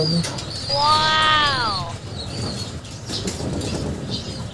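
A racing pigeon from a GRPC North winter race flaps its wings in a burst, with a soft coo and chirpy calls nearby, while a man exclaims briefly over outdoor background noise.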